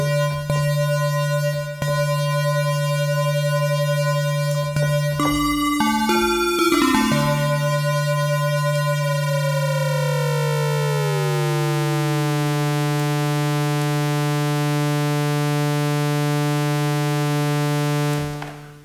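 A Zebralette 3 software synthesizer sustains a bright, buzzy tone with added noise. Partway through, the pitches warble and slide erratically before the tone settles into a steady held note, loud and alone.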